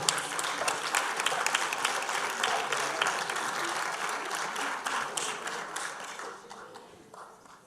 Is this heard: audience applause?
yes